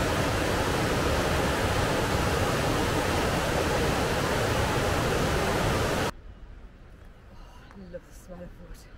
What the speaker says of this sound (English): all the snow is now melting and heading down off the waterfalls